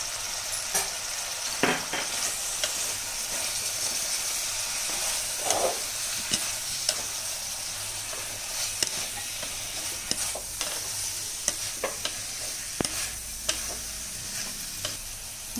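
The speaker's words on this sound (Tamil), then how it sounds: "பாருங்க நல்லா mix பண்ணிட்டேன்" A spoon scrapes and stirs cauliflower gravy with chili powder in a frying pan, a steady sizzle running throughout with scattered clinks and taps of the utensil against the pan.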